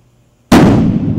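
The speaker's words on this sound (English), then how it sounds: "that's a very strong concussive explosion." A hydrogen-oxygen balloon detonates in a chemistry demonstration with one sudden, very loud concussive blast after silence, followed by a brief rumbling decay.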